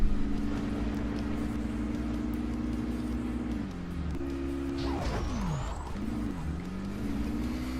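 Engine drones from the Wii U racing game Super Toy Cars, with miniature cars humming and revving on a slick rain-soaked track, pitch rising and falling with shifts and a whining sweep, steady and alone without talk.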